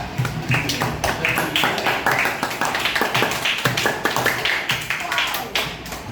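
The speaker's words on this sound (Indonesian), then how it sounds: "Tepuk tangan dulu untuk Velo sama Arya." A class of fifth-grade children claps for two classmates in a school lesson, a quick scattered patter of small hands running throughout, with voices talking over it.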